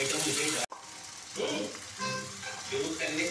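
Washed potatoes sizzle in a hot pan as they are stirred for sabudana khichdi. A soft, continuous crackle runs under light stirring noises after a brief sharp knock at the start.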